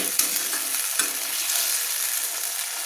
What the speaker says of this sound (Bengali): ফোড়ন দিয়ে আলুগুলো ভেজে নিতে হবে